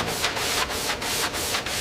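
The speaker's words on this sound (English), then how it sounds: "Long block sanding strokes flatten the door skin" Rhythmic sanding strokes scrape back and forth across the metal door skin of a 1972 BMW 3.0 CSL with a sanding block, about six steady, even passes at close range.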